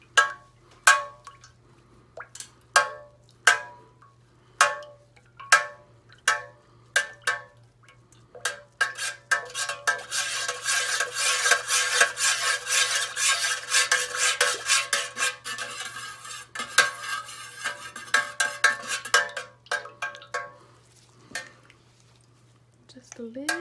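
Spoon stirring melted soy wax in a Presto pot: sharp metallic clinks and scrapes against the pot wall, first as separate taps, then a continuous dense swirling scrape before returning to scattered clinks.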